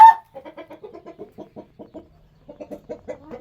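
Hen clucking close by in a series of short soft rhythmic clucks, a louder squawk at the start, then a brief pause and another run of clucks.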